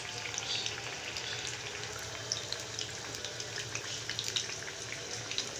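Sliced potato chips frying in hot oil, a steady dense sizzle and crackle that holds evenly throughout, close and moderately quiet with no voices.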